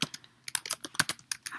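Rapid, irregular clicking of keys on a computer keyboard, close and fairly quiet, with no talking.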